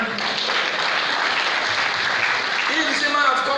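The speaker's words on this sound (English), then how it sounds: "clap out for Manu Guru Manan" A rally crowd at an APC political gathering in Akwa Ibom State claps loudly and steadily for the whole stretch, a dense unbroken wash of hands, with a voice rising over it near the end.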